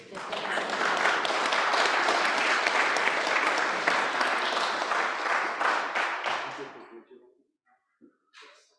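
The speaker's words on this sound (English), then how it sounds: "Now you can applaud." Applause from delegates at a state bar association house of delegates meeting after a resolution passes, loud and sustained for about seven seconds before dying away into a few scattered claps.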